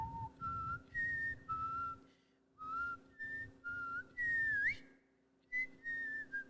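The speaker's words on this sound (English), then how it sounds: "Nobody wants to hear me whistle." Someone whistles a tune close by, a string of short melodic phrases with brief pauses between them and a rising slide near the end.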